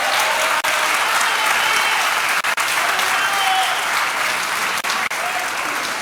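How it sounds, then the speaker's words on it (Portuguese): Church congregation gives loud, sustained applause for a visiting pastor couple, a dense continuous roar of many hands filling the room, with a few voices mixed in. "pastor Robson, pastora Jo, vamos dar salve de palmas para eles."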